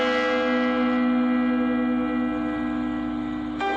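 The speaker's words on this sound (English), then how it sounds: "there's a certain bell for a notice for the dead" A church bell tolls as a notice for the dead: one loud, sustained ring with rich humming overtones that hang and slowly fade, heard alone.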